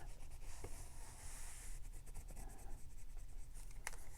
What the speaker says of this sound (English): I think I'm actually going to use my bone folder a little bit